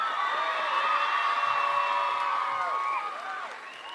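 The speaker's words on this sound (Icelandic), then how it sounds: "Frábært hjá Öspinni og þau eiga alveg skilið miklu betra klapp." A crowd at a school talent festival applauding and cheering, a dense sustained wash of clapping with whoops on top, fading slightly toward the end.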